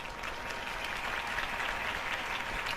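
Crowd applause at a political campaign event in the Batman Telltale video game, a dense, steady wash of clapping hands that holds at an even level throughout.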